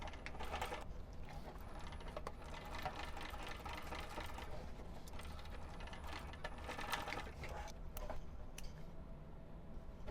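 A home sewing machine runs continuous reinforcing stitches along a fabric wristlet seam, a steady quiet mechanical whir and rattle with a few small clicks, close and unbroken throughout.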